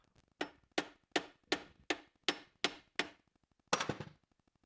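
Seven sharp metallic claw hammer taps at an even, unhurried pace, each ringing briefly before fading, followed by one louder, rougher strike near the end.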